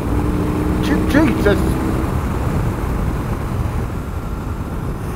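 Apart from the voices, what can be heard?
BMW R18 motorcycle engine at cruising RPM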